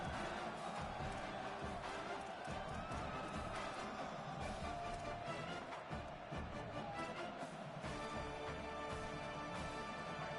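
A big stadium crowd roars and cheers steadily for the whole stretch during a college football game in NCAA 27, the noise dense and far off under layered game audio and music.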